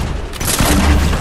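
A loud grenade blast in Fortnite, a deep booming explosion that swells and rumbles through the short moment, heard close.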